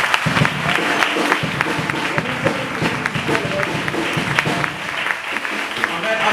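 Church congregation applauding a music group during a worship service, a dense, steady wash of clapping with crowd noise and some voices mixed in, sustained throughout.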